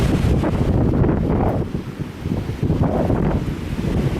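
Strong gusty wind at the Antietam battlefield's Cornfield buffets the microphone with a loud, steady low roar that dips briefly midway before surging back.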